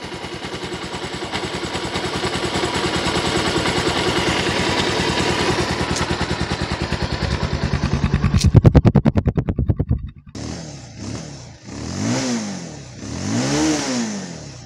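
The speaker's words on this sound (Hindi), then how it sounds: "साउंड सुन लो इंजन का" A Bajaj Pulsar motorcycle engine with its TPS sensor unplugged idles steadily, rises to a loud rev, then cuts into a few sharp throttle blips, close up with no talking.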